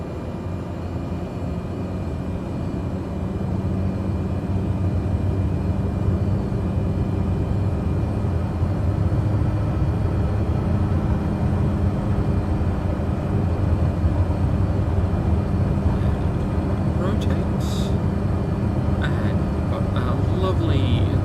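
Light aircraft engine at full takeoff power on the runway during a flight from Lizard Island to Lockhart River, a loud steady droning roar that holds throughout, with a voice talking over it.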